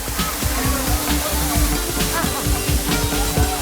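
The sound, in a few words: waterfall at Sringeri, water falling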